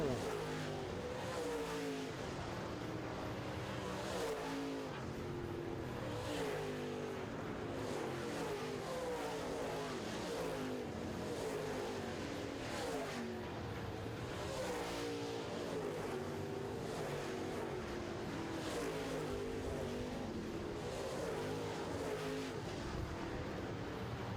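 Late model stock cars race around an oval track, engines roaring continuously as several cars pass in waves of rising and falling revs, loud and close, with no voices.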